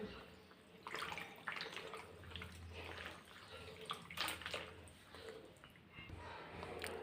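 A napkin being soaked with water for steaming sweet potatoes: a continuous wet, splashing water sound, close and moderately quiet, with faint rustling through.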